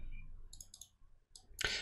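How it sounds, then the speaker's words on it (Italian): A key pressed on a computer keyboard during animation editing, heard as a few quiet, light clicks, then a slightly louder tap at the end against near silence. "clicchiamo sulla P sulla nostra tastiera"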